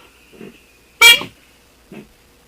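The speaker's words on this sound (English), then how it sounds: "How about a honk?" A single loud vehicle horn honk blares for a moment, with faint soft bumps of sound just before and after it.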